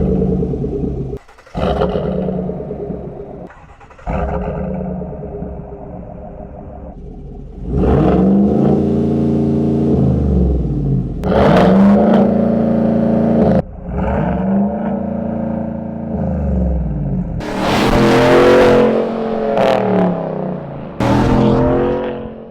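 A Chevy Silverado with headers and an aftermarket exhaust revs repeatedly, climbing to the limiter in first gear; loud, close blasts rise and fall in several surges over a deep idle rumble.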